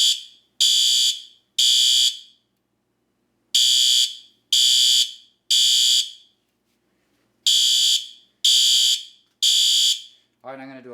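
A Fire-Lite MS-4 fire alarm panel sounds in repeated shrill electronic bursts, loud and close, in groups of two or three with pauses, followed by a brief voice.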